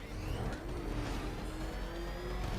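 Kart engine in the Batman Kart video game, a steady droning motor with shifting revving tones, continuous and moderately loud without speech.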